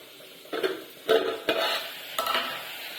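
Coriander seeds and cumin fry gently in a pan over low heat, with soft sizzling and a few scraping stirs of a utensil against the pan, quiet and close.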